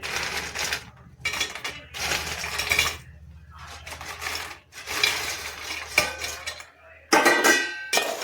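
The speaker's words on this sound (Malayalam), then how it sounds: "ഇനി നന്നായിട്ടൊന്ന് ഇളക്കി യോജിപ്പിക്കാം" Metal utensils scrape and clatter against a pan while stirring banana pieces in jaggery for sharkkaravaratti, repeated bursts, close and fairly crisp, with short pauses between strokes.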